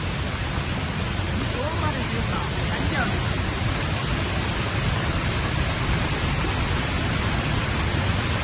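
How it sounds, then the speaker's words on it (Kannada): Sirimane Falls near Kalasa pours in heavy monsoon rain, its roar a dense, steady broadband wash that stays loud and unbroken from start to finish with no voices over it. "ಕಳಸಾ ಬಳಿ ಇರುವಂತಹ ಸಿರಿಮನೆ ಫಾಲ್ಸ್ ಭೋರ್ಗರಿತಾ ಇದೆ"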